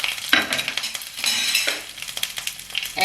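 Green chilies hit hot oil already crackling with popped mustard seeds, giving a bright, loud sizzle that flares in bursts with stirring scrapes and light clinks of a utensil, no voices.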